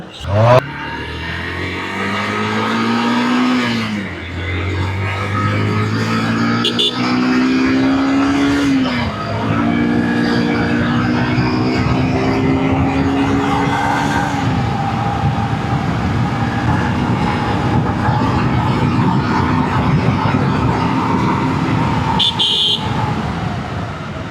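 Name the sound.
Yamaha FZ V2 motorcycle being ridden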